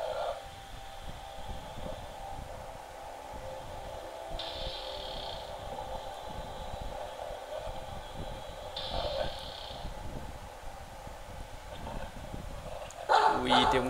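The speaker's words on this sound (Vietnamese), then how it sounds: "Chó này" A dog barks faintly in a horror video game, short barks set low under steady game ambience while a person talks.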